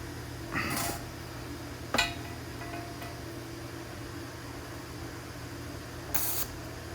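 A QuickJack BL-7000EXT hydraulic bleeder is cracked open, giving three short hissing spurts of escaping air and fluid, the middle one sharpest, over a quiet steady background hum.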